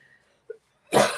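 A single short dry cough from a person with allergies, close and loud, preceded by a faint small throat sound in an otherwise quiet room.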